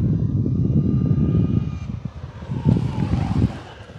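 An XFly Alpha 80mm electric ducted-fan RC model jet comes in fast to land. It makes a loud, rushing, whooshing roar with buffeting wind noise, and the roar drops and shifts in pitch as it passes. No voices are heard.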